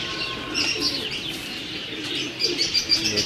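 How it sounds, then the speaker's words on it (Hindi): Teddy pigeon kept at a home, a female, giving soft cooing calls with a few high chirps, close and clear over a low background murmur, the coos bunched near the start and again toward the end. "ये जी साजी के घर का टैडी कबूतर है"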